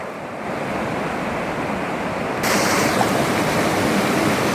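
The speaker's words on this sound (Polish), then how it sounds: "No spójrzcie jaki prąd rzeki, jak ona bystro płynie." A fast-flowing river current in a small German town rushes in a dense, steady roar, swelling louder halfway through as the recording moves closer to the water, with some wind buffeting.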